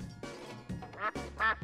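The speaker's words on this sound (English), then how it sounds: "This is a duck." A duck quacks in a short run of three or four loud, nasal calls, close by and with nothing else under them.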